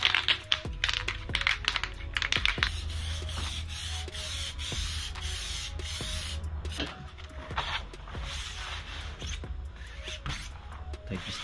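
Spray can being shaken during a DIY flattening-screen build: a rapid, rhythmic rattling of the mixing ball, fairly close, with sharp clicks running steadily for several seconds.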